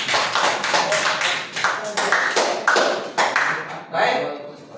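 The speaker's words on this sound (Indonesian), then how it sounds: "Tepuk tangan semuanya." A small class claps at the end of a lesson: a series of distinct, close, sharp hand claps in an uneven rhythm, trailing off after a few seconds.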